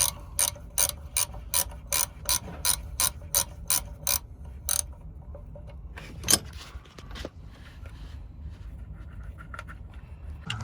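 A ratchet wrench clicks in a quick, regular burst of about a dozen turns while removing starter motor terminal nuts on a bus, followed by a sharp metallic clank and quieter fiddling with tools and parts.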